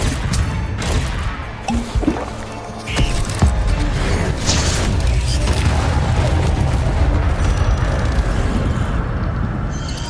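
A fire spell is cast in a Harry Potter video game, setting off a loud, continuous roar of crackling, rumbling magical blasts and impacts that build and sustain for the whole stretch.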